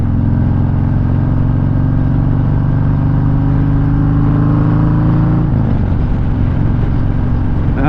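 Car engine held against the rev limiter, a loud sustained droning roar that bounces steadily at high revs, then drops off near the end, with no voices.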